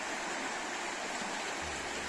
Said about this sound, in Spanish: Es un río pequeño, con agua limpia y con trucha pequeña, pero fina y brava